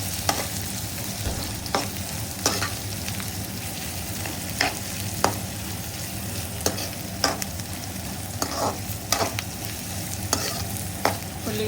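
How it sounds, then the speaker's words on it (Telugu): Onions fry lightly in a pan for chicken majestic, a soft continuous sizzle broken by regular scraping stirs of a spoon against the pan, close and fairly quiet. "ఎక్కువసేపు మాడనివ్వద్దు, లైట్గా వేగించుకోవాలి."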